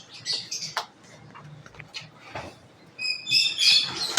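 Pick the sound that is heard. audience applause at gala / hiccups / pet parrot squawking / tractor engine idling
pet parrot squawking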